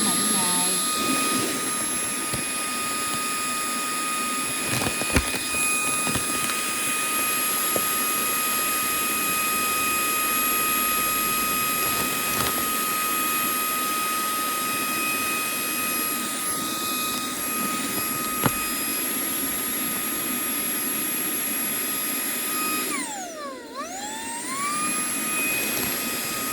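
A vacuum cleaner runs steadily and loudly nearby during packing, a constant whining roar with a tonal hum and a brief pitch dip near the end, while someone talks over it.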